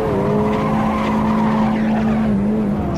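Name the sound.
tire squeal from wheelspin of a Golf GTI 16V in a racing video game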